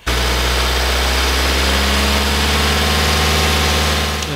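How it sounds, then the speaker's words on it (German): A BMW 120d N47D20 diesel engine with a manual gearbox idles steadily and loudly at close range, with a constant low rumble and an extremely loud, rattling, clattering timing chain layered over it. "Schaltgetriebe mit einer extrem lauten Steuerkette."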